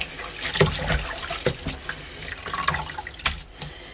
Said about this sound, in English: So now you want to go ahead and wash your ERU thoroughly, because this thing is dirty.